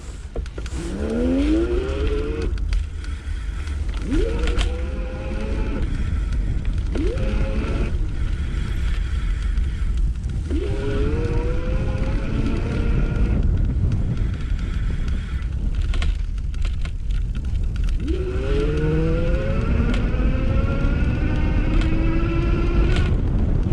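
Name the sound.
iGO Electric Core Elite II e-bike starting and accelerating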